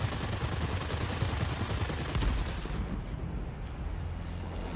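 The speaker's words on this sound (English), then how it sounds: "I love the sound of those guns." Machine guns of a Curtiss P-36C Hawk fighter firing in the video game World of Warplanes, a dense, loud, continuous rattle over a low engine roar that eases off near the end.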